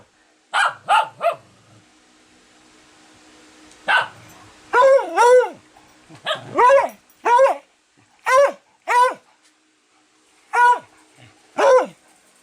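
A pet dog barks in short bursts of two or three loud, close barks separated by brief pauses, with quiet gaps between volleys and no talking.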